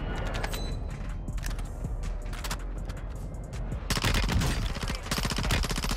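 Rapid bursts of P90 submachine gun fire in Warzone 2, loud and close, come in rattling strings with short gaps and a denser, heavier burst near the end.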